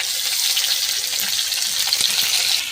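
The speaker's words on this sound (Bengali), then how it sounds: "বরবটি আমি বেশি ভাজবো না অল্প করে ভাজবো বেশি ভাজলে ফিটে হয়ে যায়" Yardlong beans, chopped chillies and tomatoes frying in a pan, giving a steady, close, dense sizzle with light stirring scrapes throughout, and no talking.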